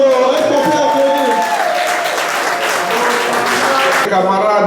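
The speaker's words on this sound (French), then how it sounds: "Est-ce qu'on peut applaudir?" An audience applauds at the 8th anniversary gathering of the AFDC federation in France. The clapping is steady and sustained for several seconds with a voice sounding over it.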